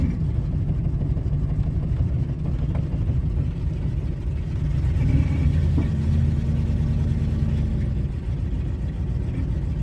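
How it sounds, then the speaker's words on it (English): A 2000 Ford F150 with an erratic idle runs in drive, its engine chugging in a steady, loud, low rumble that continues throughout, heard close up. "when I put it in drive, it's chugging really hard"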